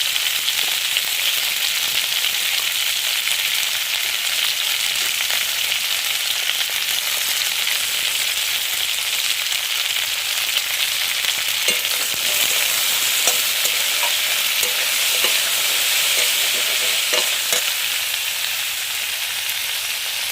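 Okra frying in a pan gives a loud, dense, unbroken sizzle, with occasional soft stirring scrapes underneath and no voices.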